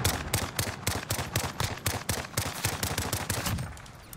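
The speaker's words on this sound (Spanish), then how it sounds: "por aquí hay disparos, pero con silenciador" Suppressed gunfire in Call of Duty Modern Warfare, a rapid, steady stream of punchy shots that runs for several seconds before tapering off.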